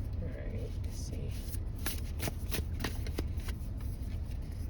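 Oracle cards are shuffled by hand in quick riffling bursts, a close, crisp series of flutters and snaps under quiet background hum.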